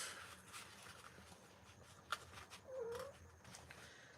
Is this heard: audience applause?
no